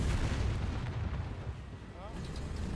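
A Japanese naval gun mounted on a tank in War Thunder fires a heavy, rumbling blast that rolls on as a dense low roar, heard fairly faint and distant.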